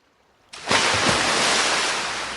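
Sea surf swells in suddenly after a moment of silence, a loud, broad wash of crashing waves that holds steady and close, used as an effect in an audio drama.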